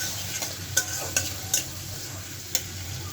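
Spices and potatoes stir-fried in a pan, a soft continuous sizzle broken by four sharp spatula scrapes and knocks against the metal, close and without voices.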